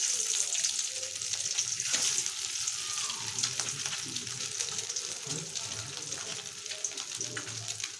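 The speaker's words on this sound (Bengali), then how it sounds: "এখন আমি ডিমটা ভেজে নেব।" A goose egg coated with turmeric and salt fries in a pan, giving a steady, close sizzle with occasional stirring scrapes and faint water sounds throughout.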